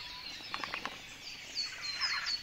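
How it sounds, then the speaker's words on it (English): A dawn chorus of different birds waking up, many overlapping high chirps and trills at a moderate distance, steady and busy throughout. "It's just one big chorus of different types of birds waking up."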